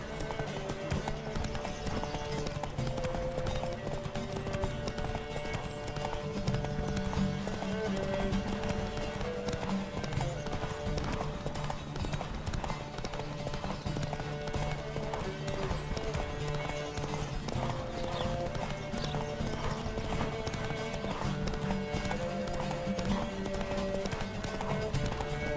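A horse gallops in the video game The Witcher 3: Wild Hunt during a race, rapid steady clip-clop hoofbeats running continuously under background music, with occasional faint speech.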